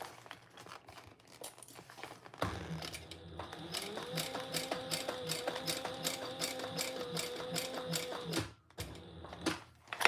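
A sewing machine back stitching on fabric for a tissue box cover sounds close and clear as a rapid, steady mechanical stitching rattle with a whirring motor tone. It runs for several seconds, then stops and starts briefly again.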